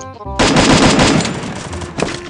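Loud bursts of rapid gunfire in the Garena Free Fire battle royale game, a sustained volley of close shots that dies away and then flares once more near the end.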